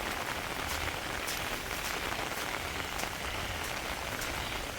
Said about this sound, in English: We've had some big rain, some big thunder